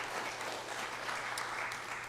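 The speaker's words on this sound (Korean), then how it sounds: "박수로 우리 김 권사님 환영하기 원합니다" Congregation applause welcoming church members back at a Sunday live worship service, steady dense clapping from many hands filling the room with no voices over it.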